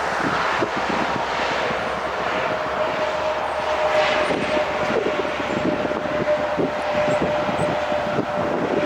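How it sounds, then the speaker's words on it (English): A JetBlue airliner lands at LAX airport, its engines producing a loud, steady roar that fills the whole stretch without a break. "JetBlue landing"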